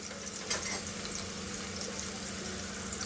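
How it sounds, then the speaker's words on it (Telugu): Onions, mustard seeds and finely chopped green chillies fry in a pan for a drumstick-leaf and chana dal curry, giving a steady, close sizzle with a slight bump early on and no voices. "ఆవాలు సన్నగా తరిగిన పచ్చిమిరపకాయలు ఆనియన్స్ వేసుకొని ఫ్రై చేసుకోవాలండి"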